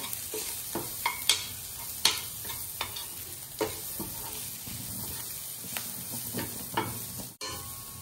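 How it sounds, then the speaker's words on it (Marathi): Raw banana curry with cumin powder, black masala and red chili powder sautéing in a pan: a steady sizzling hiss with repeated scraping stir strokes, close and continuous throughout. "काळा मसाला घालूया थोडा. लाल तिखट घालूया. परतून घेऊया."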